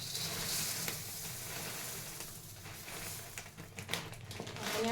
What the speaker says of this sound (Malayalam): ഇതിലിട്ടിട്ട് ജസ്റ്റ് ഒന്ന് ഫ്രൈ ചെയ്യാൻ വേണ്ടിയിട്ട് ചെറിയൊരു ചൂട് കയറ്റേ വേണ്ടൂ.